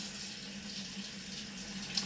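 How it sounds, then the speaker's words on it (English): A hot water tap runs into a sink, giving a steady, close hiss of flowing water with an even rush throughout and a faint low hum underneath. "I'm just going to turn the hot tap on here"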